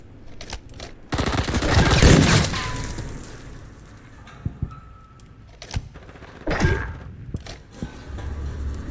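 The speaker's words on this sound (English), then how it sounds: "You just got sniped at." Shots ring out in a shooter video game, a loud sharp report with a rattling tail followed by scattered clicks and a second burst later, close and punchy against quiet gaps.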